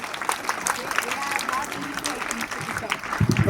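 Students in a classroom clap together in a busy, uneven burst of applause that carries on throughout, with a few voices and crowd noise mixed in and a low thump near the end.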